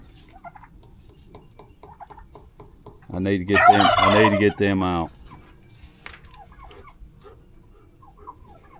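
Two hens in a corner of a poultry pen give a loud burst of clucking and gobbling cackles lasting about two seconds, near the listener, with someone talking briefly and faint rustling around it.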